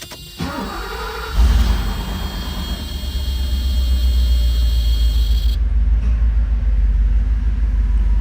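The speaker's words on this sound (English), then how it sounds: "Just like a Mercedes should. Fires right up," A 1989 Mercedes-Benz 560 SL fires up from cold with a short cranking burst, then settles into a loud, steady, deep idle rumble that holds close and even for several seconds with no talking.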